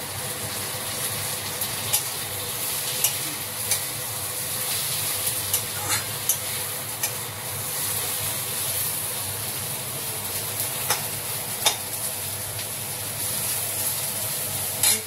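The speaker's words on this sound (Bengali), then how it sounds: "এটাকে একটু নেড়ে চেড়ে নেবো" Capsicum and green chilies sizzle steadily in a pan while being stirred, with a continuous frying hiss and scattered scraping clicks of the spatula throughout, no talk.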